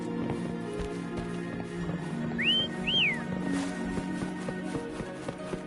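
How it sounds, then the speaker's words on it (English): In the video game Wuthering Waves, a character gives two short, clear whistles, one rising and one falling, to call Foam, set against game ambience with soft clip-clop steps. "Why don't you call Foam over? Try whistling."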